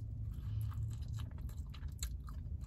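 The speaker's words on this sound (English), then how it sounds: "Okay, let's take a bite." Biting into and chewing a Mod Pizza salad makes close, wet crunches and soft smacking chews, quiet and irregular, with no talking.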